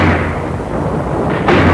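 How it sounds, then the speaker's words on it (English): WWII tank guns and mortars firing during the Marshalls attack, heard as a continuous loud rumbling barrage of blasts in an old combat film soundtrack. "General Collette sent in tanks to help the Attu veterans of the 7th as they shoved inland with 37s and mortars."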